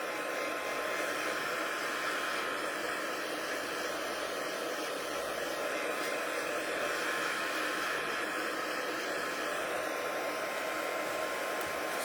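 A heat gun drying a lacquer effect on paper gives a steady, even blowing hiss that holds at a constant level for the whole stretch, close by, with no talking.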